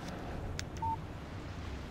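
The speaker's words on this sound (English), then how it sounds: "Text message from Barry." A short electronic beep sounds once as a text message notification on a phone in the video game Alan Wake. The tone is clean and brief over quiet background ambience.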